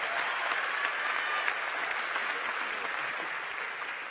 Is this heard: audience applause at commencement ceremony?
yes